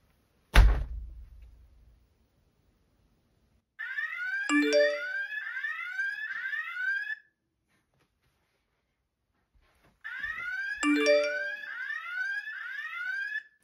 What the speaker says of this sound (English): there's also an alarm going off on the door lock itself